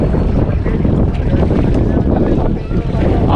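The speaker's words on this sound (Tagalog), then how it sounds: "Oh, sarap ng hangin." Steady, loud wind rushing and buffeting across the microphone aboard a boat, with water and boat noise underneath and a voice briefly audible.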